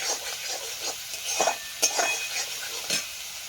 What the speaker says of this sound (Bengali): সব মশলাগুলো ভাজা ভাজা হয়ে গেছে